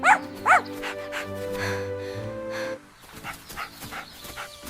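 A neighbor's dog gives a few short, sharp barks and yips near the start, with softer yelps following over a background of music.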